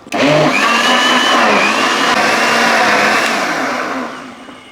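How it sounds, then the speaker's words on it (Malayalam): Electric blender whirring loudly up close as it blends mango with cold water into juice, a steady roaring motor that holds for several seconds before winding down. "ഇനി ഇതെല്ലാം കൂടെ നമുക്കൊന്ന് ജ്യൂസ് അടിക്കാം"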